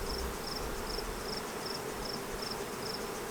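Honeybees buzzing around a hive during hive combining, a steady faint drone of many insects with a soft background hum, no voices.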